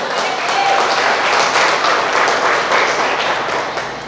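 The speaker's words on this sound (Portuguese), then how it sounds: "Diga aleluia e aplauda ao Senhor se você está entendendo." A church congregation bursts into loud, sustained applause, a thick even roar of many hands clapping that swells and slowly eases off.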